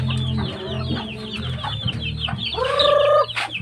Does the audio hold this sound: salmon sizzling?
no